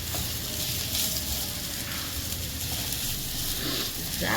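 Grated radish stuffing for mooli paratha sizzles in a pan over medium flame while being stirred, a steady, moderately soft frying hiss with occasional scraping, no voices.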